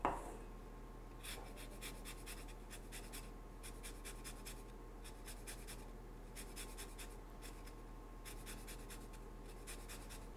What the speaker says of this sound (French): Pour commencer, je vais zester la lime.